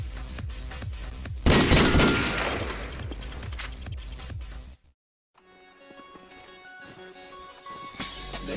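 Rapid bursts of gunfire in Call of Duty 4, a dense loud salvo with a sharp crack early on, then a brief silence before clattering shots and game noise return.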